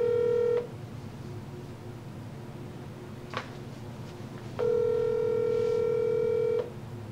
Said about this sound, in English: I got a phone call, hold on.